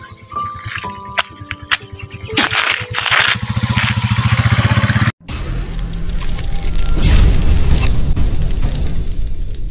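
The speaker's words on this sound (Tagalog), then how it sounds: "So, may sasakyan na po, may motor po." A motorcycle engine on a road on the way to school, heard first behind shrill, pulsing insect chirps, then swelling into a loud, sustained rumble after a brief cut, with no speech.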